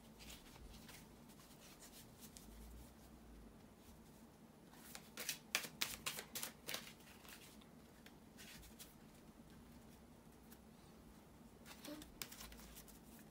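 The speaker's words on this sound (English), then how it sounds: "bear with me a second, guys, to shuffle the tarot cards" Soft riffling and flicking of cards being shuffled, a burst of quick crisp riffles in the middle, quiet and close.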